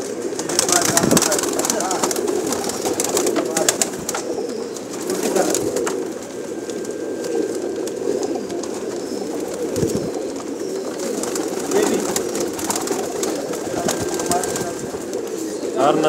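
Large numbers of pigeons coo nonstop in a crowded pigeon shop's coop. The low burbling chorus fills the space while voices talk intermittently over it.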